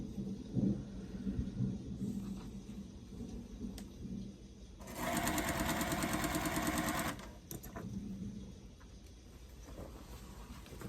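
A sewing machine stitching 1.5-inch blocks for a postage stamp quilt runs in one loud, steady burst of rapid needle chatter lasting about two seconds, set between quieter stretches of low rumble and handling noise.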